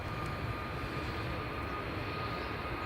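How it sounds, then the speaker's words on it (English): A Ryanair Boeing 737 MAX 8-200 jet departs from an airport, its engines giving a steady, broad roar that holds at an even level throughout, with no voices present. "here goes the Ryanair 737 MAX 8 200."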